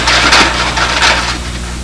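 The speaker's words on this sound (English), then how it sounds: "Sanding the fillets." Sandpaper on a rubber fillet tool rubs the fillets of a model aircraft in close, steady scraping strokes, loud and rasping with no voice over it.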